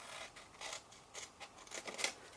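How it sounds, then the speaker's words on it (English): Scissors cut paper along a score line while an envelope is made on a craft punch board: a series of soft, quick snips about half a second apart, faint and close, with no talking. "I'm just going to grab my scissors, and you follow up the score line"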